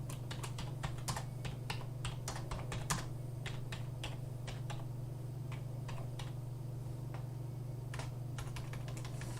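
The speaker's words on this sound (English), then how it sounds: "Why am I typing?" Rapid, uneven clicks of a computer keyboard being typed on nearby, with a steady low electrical hum underneath and no talking.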